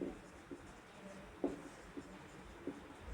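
Pen writing on paper in short scratchy strokes, a handful of quiet separated marks spread over a few seconds against faint room noise.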